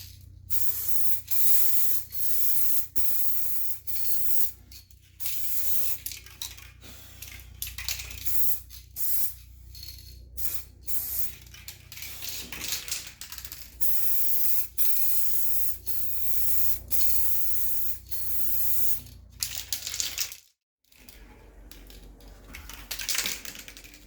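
A spray gun lays another coat of paint on old Mopar bodywork, in a string of short hissing bursts broken by brief pauses, close and fairly quiet, with one longer gap near the end.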